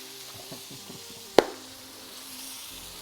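Faint, steady sizzle of ribeye beef frying in a pan under a low hum, broken once by a single sharp clack midway.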